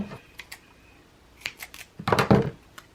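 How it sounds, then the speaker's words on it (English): Scissors (the wrong pair for the job) cutting through foam tape at a card-making desk: a few short, crisp snips close up, with a denser burst of cutting near the end. "these are the totally wrong scissors to cut foam tape"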